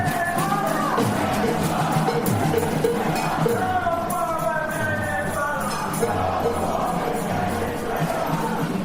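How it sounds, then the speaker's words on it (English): A relatively small protest crowd marching south just outside Times Square on 43rd Street and 8th Avenue in New York, a steady dense roar of many voices with chanting and shouts rising and falling throughout. "this relatively small crowd for a New York protest is leading a march south"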